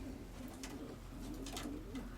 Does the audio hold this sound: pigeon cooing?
yes